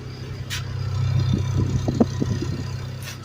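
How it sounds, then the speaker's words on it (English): A Geo/Suzuki Metro's small engine idles steadily at close range, a low even hum with faint irregular putters and no talk. "Car's running pretty well."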